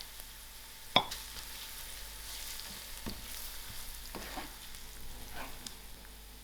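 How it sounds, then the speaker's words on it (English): Masala spices fry in a pan for South African chakalaka, giving a faint steady sizzle with a sharp clink early on and several soft stirring scrapes afterward. "now I'm going to throw in my masalas"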